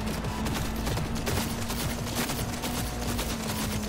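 Sustained gunfire as an enemy is shot in the game Cyberpunk 2077, a steady dense stream of shots and combat noise at even loudness, with a constant tone running underneath.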